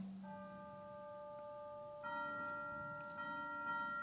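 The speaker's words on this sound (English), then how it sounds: "Do y'all hear those bells?" Church bells ring in the distance, sustained tonal strikes that overlap and layer as a second bell joins, faint and steady with no talking.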